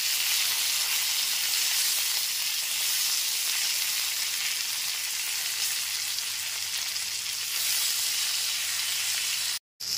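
Chopped tomato fries in hot oil in a pan, a continuous bright sizzle with a steady hiss that holds throughout and cuts out briefly at the very end.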